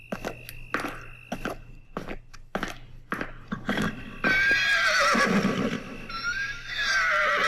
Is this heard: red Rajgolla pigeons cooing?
no